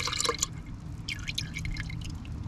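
Liquid pours into a lawn sprayer tank, dripping and splashing steadily for a couple of seconds at close range with no talk.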